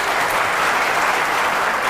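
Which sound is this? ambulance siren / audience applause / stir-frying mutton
audience applause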